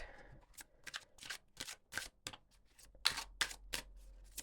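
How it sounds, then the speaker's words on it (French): Tarot cards from a Dark Wood tarot deck are shuffled by hand in a quick series of soft, crisp riffling bursts, close and quiet, with no talking. "Je vais remélanger un petit peu mes cartes."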